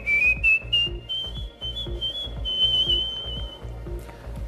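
A person whistles a tune in London's Burlington Arcade, a clear, rising and wavering melody up close over a steady rhythmic thumping backing beat.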